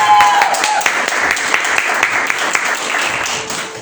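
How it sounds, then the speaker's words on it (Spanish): Church congregation applause, a dense, steady wash of many hands clapping that holds throughout and fades slightly toward the end. "aunque sea hay que tener un aplauso a la palabra de Dios."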